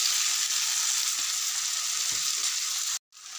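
Potatoes go into a pan already frying onions, green chillies and peas, giving a loud, steady hiss of sizzling oil for about three seconds before it cuts out abruptly and returns faintly.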